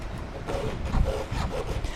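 A hand file rasps back and forth across a metal blade, giving steady, close scraping strokes of even loudness with no talk over them.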